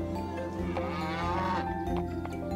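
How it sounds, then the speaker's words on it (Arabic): A big cow lows steadily at a bustling livestock market, its deep drawn-out moo sitting amid a dense, continuous bed of crowd and animal noise. "ثم ذهبنا إلى سوق المواشي، وهناك اشترى جحا بقرة كبيرة"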